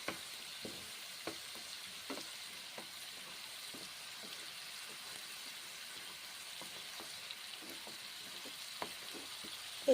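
Spice paste and ground tomato frying in a pan for magur fish curry, a soft steady sizzle broken by occasional stirring clicks and taps, moderately quiet with no one speaking.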